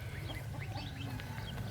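A flock of Muscovy ducks on a farm gives soft, continuous chirps and low calls, with a steady low-pitched hum from the surroundings underneath.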